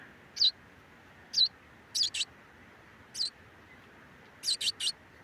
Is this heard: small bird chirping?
yes